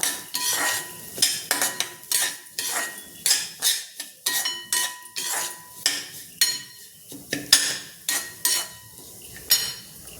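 Cracked wheat dry-roasting in a pan over a low flame, stirred with a metal spoon, giving a steady run of close scraping and clinking strokes in a quick, even rhythm with no talking.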